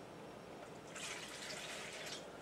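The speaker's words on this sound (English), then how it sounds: "So I'm putting the water in first" One cup of water poured into a mixing bowl for a chocolate cake, a soft splashing trickle that swells after the first second and runs steadily, fairly faint and close, with no talk.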